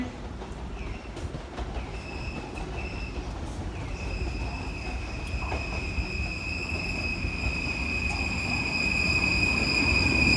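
A Sanyo 3100 series local train pulls into Sanyo Akashi station, wheels rumbling and squealing in a steady high whine that builds as it nears, with no voices over the rolling clatter.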